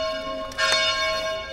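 Church bells ring in Venice, a bright tonal chime with a couple of soft strikes around the middle, sustained resonant tones fading over a quiet background.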